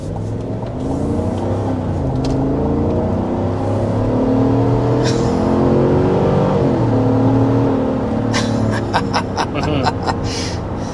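A 2025 Chevy Tahoe High Country's 6.2-liter V8 revs close up, rising and falling in a deep, sustained roar with a swell in the middle, and a few faint clicks near the end.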